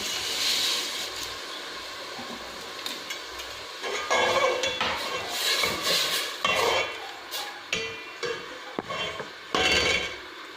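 A spoon scrapes and clinks against a pot as vermicelli is stirred through hot milk, irregular metallic taps and scrapes over a soft background hiss, growing busier toward the end.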